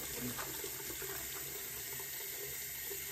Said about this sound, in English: I just wash my face with it.